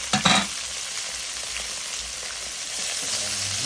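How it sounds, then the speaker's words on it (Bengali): Small puti fish fry in a hot pan with a loud, continuous oily sizzle, a brief sharp crackle at the start, then an even hiss heard up close. "ওই দেখো পুঁটি মাছ ভাজি হচ্ছে।"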